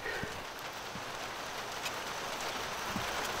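Steady rain falls on a school bus roof in Arizona, a faint, even hiss with scattered soft drop taps throughout.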